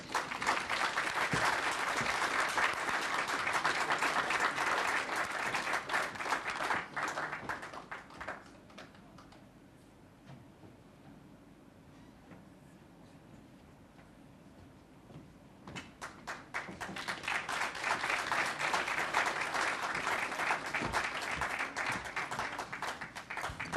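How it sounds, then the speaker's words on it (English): A clean-energy event audience gives a loud, sustained round of applause for Helen Caldecott, the clapping fading to a low murmur midway before surging back full and close for the final stretch. "a big passionate round of applause for Helen Caldecott"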